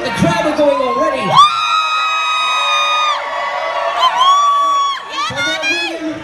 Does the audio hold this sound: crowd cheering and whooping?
yes